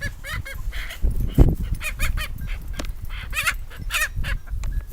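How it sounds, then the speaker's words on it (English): Chickens and a mature rooster cluck and squawk in a busy, overlapping flock, loud and close, with rapid irregular calls continuing throughout and no talking. "Oh, we got a mature rooster already."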